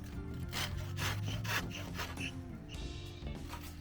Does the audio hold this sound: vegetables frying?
no